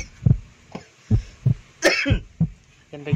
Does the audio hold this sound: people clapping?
no